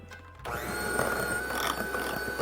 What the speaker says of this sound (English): So we'll take my mixer, kind of get it started.